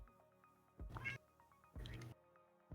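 Cat meowing twice from downstairs as a sound effect in a Stars Without Number tabletop campaign, two drawn-out cries about a second apart over a faint background hum.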